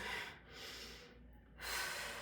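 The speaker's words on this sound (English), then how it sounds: "To blow my nose." A close, breathy nasal blow with airy snorting bursts, brief pauses between them, fairly quiet and with no speech.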